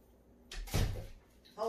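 A door bangs open partway through, a short knock-like thud with rustling, then a voice begins at the end.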